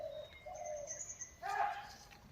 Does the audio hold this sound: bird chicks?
yes